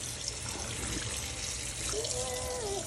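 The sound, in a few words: tap water running to rinse out bleach-dyed clothing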